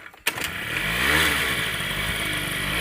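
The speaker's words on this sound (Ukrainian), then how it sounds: "Ремонтірують мопеди." A moped engine being repaired outdoors in a village yard clatters to life after a brief quiet moment, then runs on at a rough, steady idle with a slight rise in revs.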